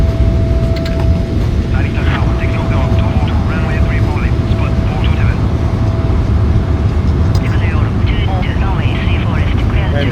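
A heavy airliner's thrust reversers roar on landing in a flight simulation game, a loud, constant broadband rumble that fills the whole stretch, with someone talking over it.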